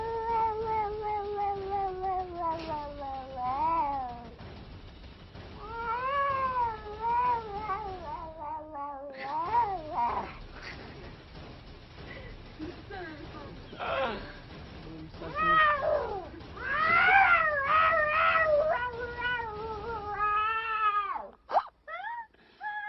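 A cat meows repeatedly, long drawn-out wavering cries and caterwauls close by, some loud and insistent, separated by short pauses, with a sharp clatter near the end.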